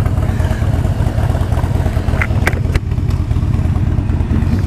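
A motorcycle engine runs steadily nearby at a meet-up, giving a continuous loud rumbling throb with a little mechanical clatter and a brief rattle partway through; no one speaks.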